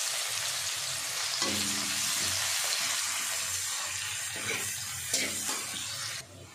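Chopped large onion frying in oil for a fish curry, a steady loud sizzle filling the whole stretch with a few brief stirring scrapes, alone without talk.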